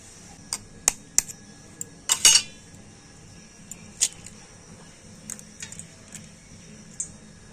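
An egg is cracked into a bowl: sharp taps and clinks against the rim, then a brief cluster of cracking, followed by a few scattered light clicks in a quiet kitchen.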